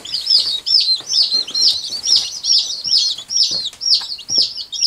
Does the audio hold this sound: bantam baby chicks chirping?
yes